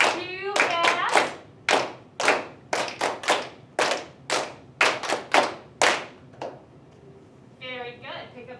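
Children in a fifth-grade ukulele class clap a brisk rhythm while tapping their feet, a run of crisp, close hand claps over dull thumps, with a brief voice near the end.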